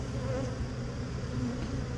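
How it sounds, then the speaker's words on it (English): A dense, steady buzzing of many honeybees from a queenless swarm fills the space continuously, close and even in loudness throughout. "as you can see, there's quite a few bees"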